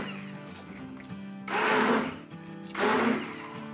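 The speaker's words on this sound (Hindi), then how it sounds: "मेरे पास ये हैंड ब्लेंडर है तो इससे मैं घोट लूंगी" Hand blender pureeing cooked mustard greens for sarson ka saag: two bursts of whirring, churning motor noise, each about a second long, rising out of a quieter kitchen background.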